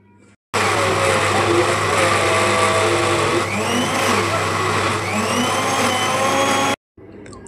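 A kitchen blender whirs loudly and steadily up close for about six seconds, its motor pitch wavering slightly, then cuts off abruptly into near silence.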